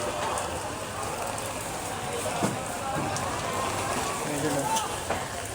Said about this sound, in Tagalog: Yan yung pag umuulan dito guys.